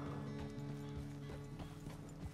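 Horse hooves clip-clop at a steady walking rhythm in Red Dead Redemption 2, close and moderately loud over a constant low musical drone, with faint mechanical clicks scattered through.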